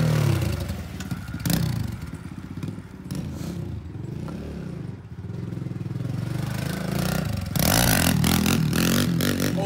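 A 2020 Kawasaki KLX 110L dirt bike engine revving up close, a rough continuous drone that rises and swells with the throttle, with clattering mechanical noise over it.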